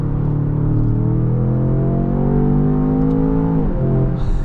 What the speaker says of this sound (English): Love that sound of that low-end V8 grunt from this vehicle as well.